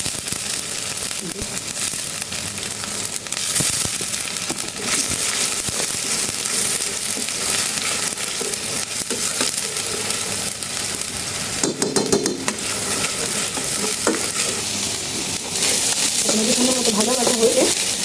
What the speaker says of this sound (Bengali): আর দিয়ে দেবো আদা রসুন বাটা